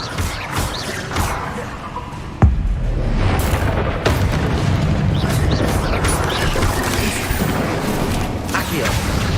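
A Bombarda explosion spell goes off in a Harry Potter video game as a sharp, loud boom, followed by a sustained rumbling roar that holds to the end, while someone talks over the action.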